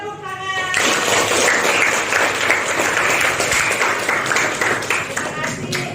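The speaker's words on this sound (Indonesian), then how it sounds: "Tepuk tangan." Classroom applause breaks out, a steady wash of many hands clapping together for several seconds, loud and close, before tapering near the end.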